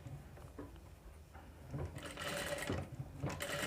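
Sewing machine stitching right along the corner of a boat neck blouse beside the buckram, a quiet hum that swells into a louder, denser whir over the final second and a half.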